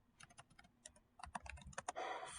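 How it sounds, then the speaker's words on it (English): Quick, light taps on a computer keyboard come in short bursts as search terms are typed into a database, close and fairly quiet, ending in a faster flurry of keystrokes with no talking. "So we can type our topics."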